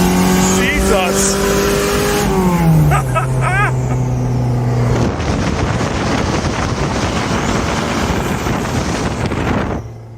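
A turbocharged Toyota Tercel 3A-C 4wd wagon climbs through the gears with rising engine whine and shifts, then roars at full boost under strong wind rush, loud and in-cabin, with a voice talking over the start.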